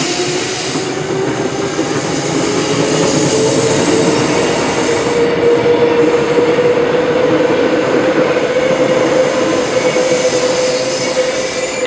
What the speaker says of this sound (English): Got another train, they always come in 2s.